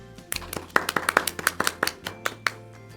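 Group of children clapping together in a Class 1 maths smartclass lesson, a quick run of close, crisp, slightly uneven claps over about two seconds.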